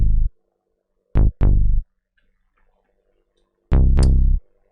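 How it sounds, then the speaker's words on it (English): A dry, plucky Zebra synth bass preset plays short, punchy low notes, one hit, two quick hits, then a longer note with a slight pitch drop, each ending abruptly with silence between, with no talking. "The bass dry sounds like this."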